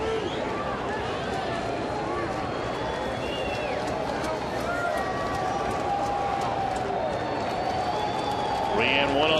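A baseball stadium crowd on its feet cheering at a Cubs–Reds game, a steady loud roar of many voices with scattered whistles, while a broadcaster talks over it.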